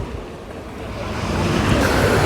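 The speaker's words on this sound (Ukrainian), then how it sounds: "Трішечки хвилюється море." Sea waves washing onto a crowded Odesa city beach at dawn, a loud, continuous wash of surf swelling toward the end, close and steady with no voices.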